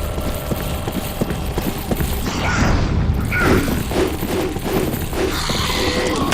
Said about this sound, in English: I shouldn't use the rocket launcher.